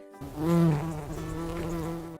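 A single insect buzzes loudly and steadily up close, a rich droning hum that swells briefly then holds.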